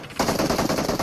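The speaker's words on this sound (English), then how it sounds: "curious where gunshots are going out, but they are in fact not connecting onto anything" Continuous rapid automatic gunfire in an esports video game match, a dense, loud burst of shots starting abruptly and sustained to the end.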